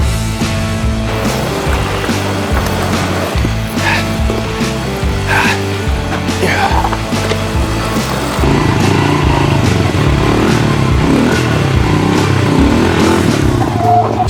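A two-stroke pit bike engine revs loudly up close, a buzzy, rattling tone that runs without a break for about fourteen seconds and grows rougher toward the end, with no one speaking.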